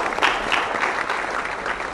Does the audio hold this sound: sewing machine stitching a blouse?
no